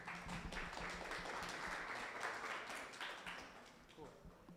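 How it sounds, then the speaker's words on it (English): Applause from a meetup audience after a technical discussion panel on blockchain, a steady wash of clapping at moderate level lasting several seconds and thinning toward the end. "A quick round of applause"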